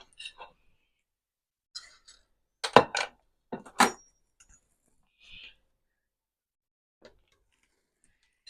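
Rice is served out of a pot with cutlery, giving scattered clinks, taps and scrapes spread across a quiet room, near and fairly soft, with long pauses between them.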